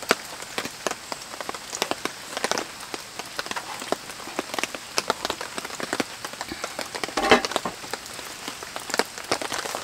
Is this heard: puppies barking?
no